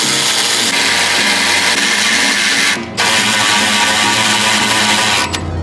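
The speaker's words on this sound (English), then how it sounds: "Oh, the beauty of a power ratchet." A power ratchet drives a bolt while lowering springs are fitted to an Audi B9 S4/S5, a loud, close, continuous whirring buzz that pauses briefly midway before resuming and cutting off near the end.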